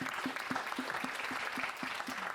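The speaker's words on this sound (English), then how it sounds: "Please give a round of applause for our panel." Audience applause at a climate summit panel session, a steady, dense sustained patter of many hands heard from some distance, fairly quiet and even throughout with no talking over it.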